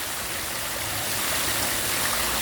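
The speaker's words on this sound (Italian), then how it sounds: "voglio farvi sentire questa fontana," Town fountain in Piazza Garibaldi in the historic centre of Gemona del Friuli, its water flowing steadily in a close, even rush with no voices over it.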